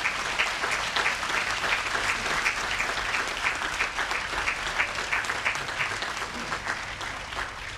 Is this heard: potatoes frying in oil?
no